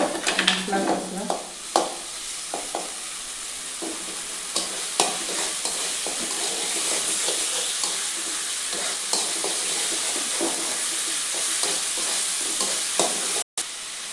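Masala frying and being stirred in a pan for an Odia fish and potato curry, a steady close sizzle broken by scraping spoon strokes and light clinks throughout, with no talk.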